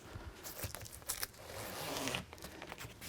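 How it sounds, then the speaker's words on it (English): Zippers being run closed along a Rampage TrailView soft top on a 2022 Ford Bronco, a few close, quick rasping pulls with brief pauses between them. "finish our zippers."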